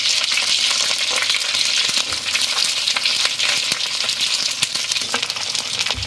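Curry leaves, onion and green chillies fry in hot oil for a fish curry, giving a loud, dense, continuous sizzle with crackling and occasional stirring scrapes, close up and with no voices.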